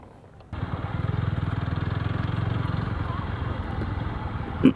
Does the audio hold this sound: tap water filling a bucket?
no